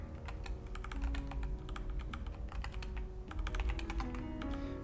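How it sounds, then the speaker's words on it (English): Quick, uneven typing on a computer keyboard while solving physics circuit problems, a steady stream of close clicky keystrokes over a low background hum, with no speech. "you can tell I haven't been typing in a long time"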